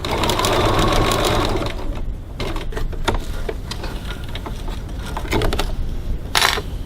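Sewing machine stitching strap tabs onto a bag gusset, a close, steady mechanical whirr that stops, then short bursts of stitching follow with a brief rattle near the end.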